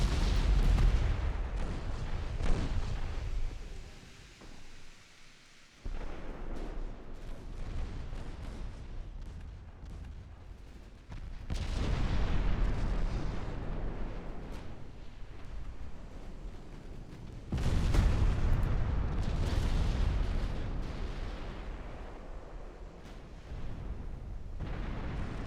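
Enemy battle cruisers fire big naval guns in a naval battle game. Several heavy, deep booming salvos arrive at intervals, each followed by a long rumbling roar that swells and then drops away.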